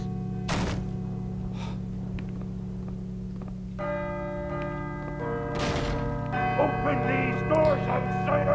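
Large bells ring out during a floor-opening mechanism puzzle in the video game Call of Cthulhu, with two heavy clanging strikes that leave long sustained tones layered and decaying, plus a quieter knock between them.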